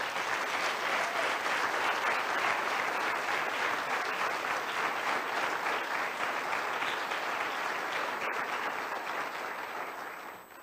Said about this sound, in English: I think you really deserve an applause